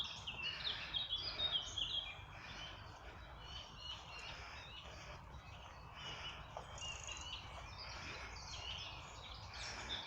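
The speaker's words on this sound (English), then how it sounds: "Birds are so noisy. Can you hear them?" Birds sing and chirp steadily through woodland along a countryside walking path, a dense, moderately quiet chorus of calls with faint insect-like buzzing underneath and no voices.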